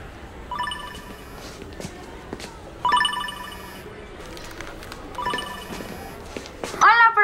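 A cell phone rings in a school classroom, its electronic ringtone sounding in several short repeated bursts at moderate volume against a quiet room background.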